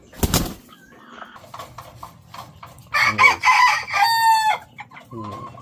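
A rooster crows loudly while breeding hens cluck nearby on a Philippine gamefowl farm, with a sharp bang at the start, scattered clucks, then a long harmonic crow near the end.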